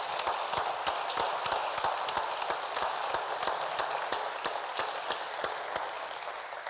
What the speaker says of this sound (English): ask everybody again to give a round of applause to Vassie, Nadine, and Daniel